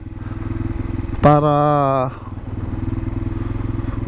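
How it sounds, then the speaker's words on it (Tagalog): Motorcycles on a road beside bridge construction throb steadily throughout, with a brief, loud horn-like tone partway through and a voice talking over the traffic. "May mga nakakalusot na mga motorsiklo."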